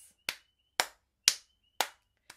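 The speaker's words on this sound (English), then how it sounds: "hand claps." Bare hand claps as body percussion, five sharp, crisp claps evenly spaced about half a second apart, close and clear against silence, the last one softer.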